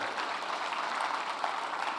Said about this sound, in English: we really have to give Secretary Cristina a round of applause for all